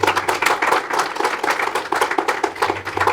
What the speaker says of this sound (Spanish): le pedimos nuevamente un fuerte aplauso